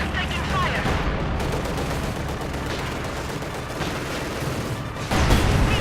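Panzerfaust blast and sustained gunfire in the video game Company of Heroes 2, a loud, dense battle din of overlapping shots running throughout, with a heavier burst near the end.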